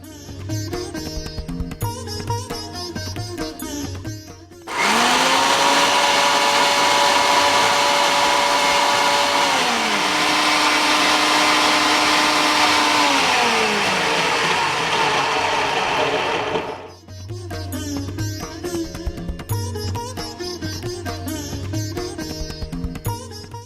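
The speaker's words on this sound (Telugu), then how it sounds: "ఇప్పుడు ఇది మిక్సీలో వేసేసుకొని మనం పేస్ట్ చేసేసుకుందాం." Mixer grinder whirring loudly as it blends tomato paste in a home kitchen, a steady motor roar lasting about twelve seconds with a slowly shifting pitch, with background music before and after.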